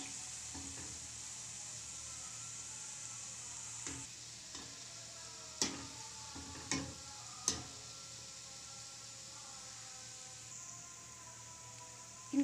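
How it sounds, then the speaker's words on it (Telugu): Cow milk gulab jamun balls fry in oil over a low flame, giving a steady soft sizzle with a few sharp pops and crackles scattered through, close and alone with no talk. "గులాబ్ జామ్ ఉండలు వేసుకోవాలి ఆయిల్లోకి. సిమ్లో పెట్టుకొని వేయించుకోవాలి."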